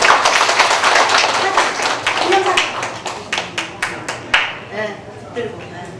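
An audience at an award presentation during a national sijo singing contest claps in a loose, uneven burst that thins into separate sharp claps, with someone talking over it.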